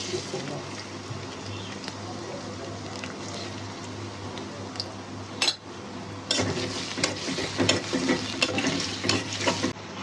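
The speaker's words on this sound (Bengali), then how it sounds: "গরম হয়ে গেছে, পেঁয়াজ দিলাম।" Onions hit hot oil in a wok, a continuous close sizzle with a low hum underneath, then a sharp clank of a utensil and busier stirring scrapes in the second half.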